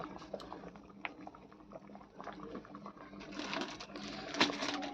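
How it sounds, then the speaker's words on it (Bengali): Potatoes boil in a pot on a home kitchen stove, giving a steady, fairly quiet bubbling and simmer that grows a little busier toward the end, with no talking. "এদিকে আলুটা সিদ্ধ করতে দিয়েছে"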